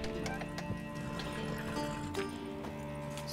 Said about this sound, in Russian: Сначала нужно успокоить всех лошадей, пока они не перебудили стражников.